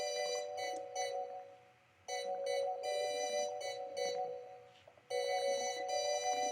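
Organ chords in a boom bap beat recur in bright, sustained bursts over sparse percussion, cut off by short gaps, moderately quiet and heard alone without speech.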